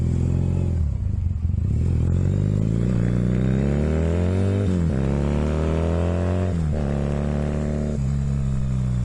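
A Honda CB250 motorcycle engine under way while riding, its revs climbing and easing in smooth sweeps, loud and close with a steady rumble and no talk throughout.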